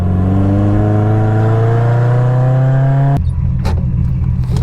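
A Mazda Miata with a cam runs and revs hard, its engine note climbing steadily before the throttle snaps shut and it drops to a rough, loud idle with a few small blips close by.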